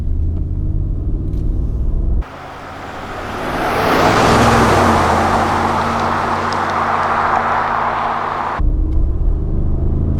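A truck driving at road speed, around 50 miles an hour, with a steady broadband roar of engine, tire and wind noise that swells slightly and holds loud and close throughout, cutting in and out abruptly.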